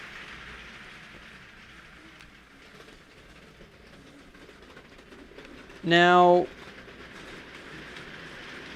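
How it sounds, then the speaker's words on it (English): A LEGO RC heavy haul train runs around a track in a toy train yard, a soft steady rolling rumble broken by one brief horn-like tone, with a short spoken word. "so we can send the heavy haul train around the track"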